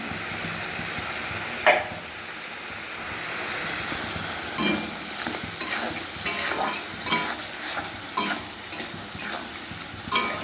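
Spice paste for a fish curry with vegetables stirred and fried in a pot, giving a continuous sizzle with intermittent scraping strokes of a spoon, close and steady, with no voices.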